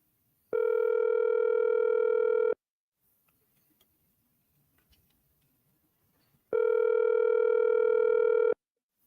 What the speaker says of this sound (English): The phone didn't ring in yet. It's calling.